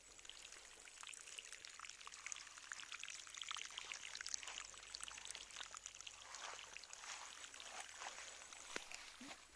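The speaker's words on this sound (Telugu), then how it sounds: "బోర్లోంచి వాటర్ అయితే ఈ రకంగా వస్తుంది." Water flows steadily out of a borewell, a continuous faint rushing splash that holds level throughout with no talk over it.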